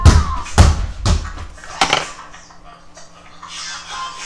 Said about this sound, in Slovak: Teraz ste mohli počuť búchanie lopty.